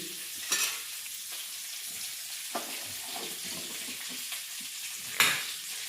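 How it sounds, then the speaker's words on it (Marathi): Spices sautéing in a pan for a Marathi fish curry, with a steady soft sizzle and a few scraping stirs or clinks of a spoon against the pan, close and continuous with no talking. "चला होऊन देऊ थोडे परतून"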